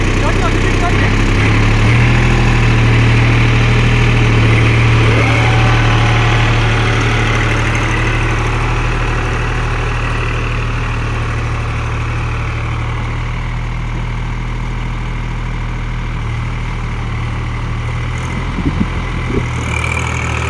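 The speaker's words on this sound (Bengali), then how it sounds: "এটা তোমার 1500 আরপিএমে চলছে আর 2 নম্বরে।" A New Holland 3600-2 4WD tractor running at 1500 rpm in second gear with a rotavator in mud, giving a steady low, loud diesel drone throughout, with people talking over it.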